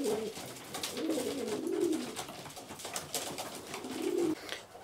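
Young pigeons in a full loft coo in low, repeated rolling calls, some close and some farther back, with soft rustling and wing movement throughout.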